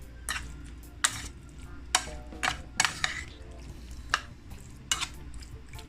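Chicken browning in a pan for a Chinese-style chicken and vegetable stir fry, a low steady sizzle broken by sharp scrapes and clacks of a utensil stirring against the pan, close and fairly loud, with no talking.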